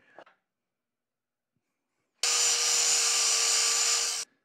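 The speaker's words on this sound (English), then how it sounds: "take a screwdriver and kind of" A screwdriver cutting a groove into a pin on a Holley Model 1940 carburetor, heard as a brief scrape followed by a sustained, even, high-pitched grinding tone lasting about two seconds.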